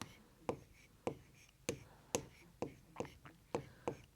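Numbers are handwritten with a pen on paper, a quiet close-up series of about a dozen short scratchy strokes and taps in an uneven rhythm, with faint breathy murmuring in the background.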